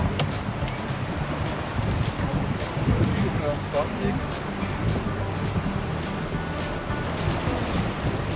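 Surf washing ashore at Kolovara city beach in Zadar, a steady wash of small waves with wind noise and a voice talking over it.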